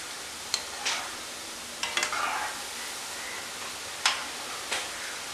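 A spoon stirs poha murukku frying in hot oil, giving a steady faint sizzle broken by a few sharp scraping clicks and brief rustles, with no voices.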